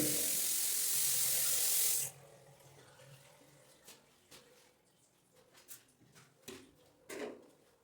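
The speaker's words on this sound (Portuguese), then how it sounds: "Torneira de metal, do tipo bicamóvel. Funcionando normalmente." A metal swivel-spout kitchen faucet pours water into a sink in an apartment, making a loud, steady rush for about two seconds before shutting off abruptly, followed by faint scattered drips and clicks.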